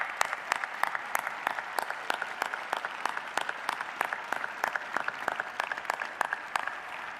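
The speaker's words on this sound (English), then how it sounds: "Please join me in a round of applause for this incredible team." A commencement ceremony audience claps, sparse and spread out, with distinct individual claps in an uneven rhythm rather than a dense roar, moderately loud and sustained throughout.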